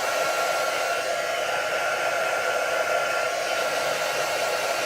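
Hair dryer blowing steadily at close range while drying a handmade card, a continuous loud whooshing whine with no speech.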